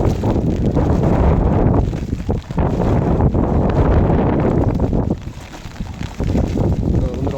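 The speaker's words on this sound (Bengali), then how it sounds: "অনেক বাতাস" Strong wind buffets the microphone outdoors over flooded fields where nets are set for fishing, a loud continuous roar with gusty surges and brief lulls, no voices.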